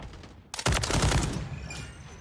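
A heavy sniper rifle in the video game Modern Warfare 3 fires one loud, close booming shot that rolls into a decaying echo tail, with no talk over it.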